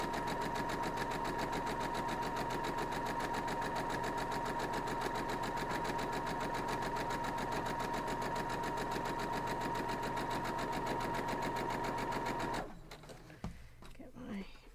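A sewing machine stitches through quilt block fabric for a Southern Belle block, a fast, even mechanical whir with fine rapid needle ticks that runs steadily for about twelve seconds, then stops, leaving faint handling sounds.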